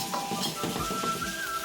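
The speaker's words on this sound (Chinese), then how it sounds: "继续炒香，炒出红油。" Ginger, garlic and pickled chili stir-fried with Pixian chili bean paste in a wok, a close sizzle broken by repeated scraping and clinking of a spatula against the metal.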